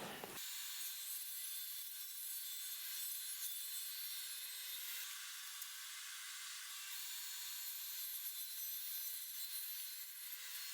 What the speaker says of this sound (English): I'll rip a 2-inch piece from this board